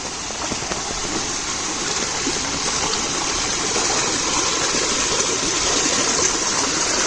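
Continuous gushing rush of rainwater flowing over a field embankment in a heavy downpour, a steady, dense wash of sound with no voices.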